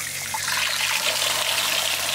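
Water pours steadily into a container of fermented nettle fertilizer on a small farm, diluting the strong brew, with a continuous close rushing trickle and no talking.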